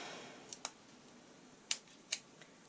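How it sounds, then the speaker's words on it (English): Scissors cutting a piece of rose gold coppery foil, giving a few sharp, quiet snips spaced irregularly, two close together near the start and more later, against near silence. "I need to cut a piece of foil to cover the motif."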